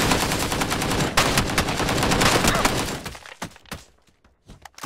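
Loud, rapid bursts of gunfire in the battle royale game PUBG hammer away for about three seconds, then break into a few sparse, sharp shots.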